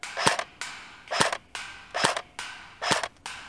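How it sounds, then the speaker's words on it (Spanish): A Jing Gong AK47 airsoft rifle fires BBs in five sharp, evenly spaced single shots, each a crisp snap with a short mechanical tail, close and loud with no talking. "Vamos a disparar a Seti algunas bolillas"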